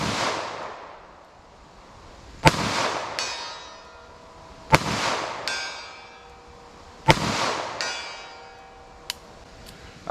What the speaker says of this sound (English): when you shoot really slow rounds like that out of a short barrel